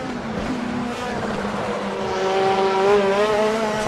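A WTCC touring race car at the Nürburgring in a racing game climbs through fourth and fifth gear as it rides over the curbs, its engine note droning steadily and rising in pitch while the level swells.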